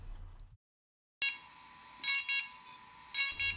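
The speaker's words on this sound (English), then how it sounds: "During this upgrade process, you may hear beeping coming from the Inspire 1." A DJI Inspire 1 drone beeping during a firmware update: a sustained electronic tone joined by several short, loud, high-pitched beeps in irregular bursts, close and clear after a brief silence.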